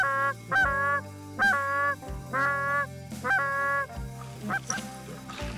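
Geese honk in a series of loud, close calls on a waterfowl hunt, about five or six honks in a steady rhythm with short gaps between them, ending in softer scattered calls.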